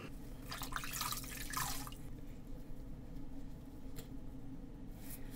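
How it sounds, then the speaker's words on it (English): A wet washcloth is wrung out during a shave, giving a brief burst of splashing water followed by faint, scattered drips against a steady background hum. "Go back in, wring out our washcloth."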